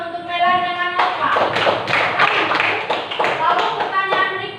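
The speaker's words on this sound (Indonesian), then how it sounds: "tepuk tangan untuk Melan dengan Nova" A school class claps for two students, Melan and Nova, during an Indonesian language lesson. The sharp, uneven hand claps from a small group come close and loud, with a voice heard faintly underneath.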